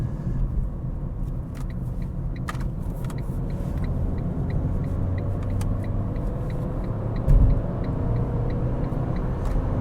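A Ford Ka cruises on the motorway at about 70 mph in fifth gear, with continuous road rumble and engine drone, tyre noise filling the cabin throughout, with a brief bump near the end.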